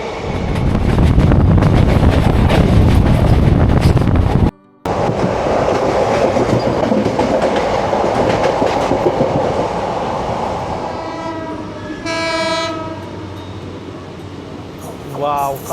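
An almost empty general-class coach on the Santragachi to Digha train rumbles loudly and steadily at speed, then briefly cuts out. The din eases later, when a tonal horn-like blare sounds, and speech appears to mix in.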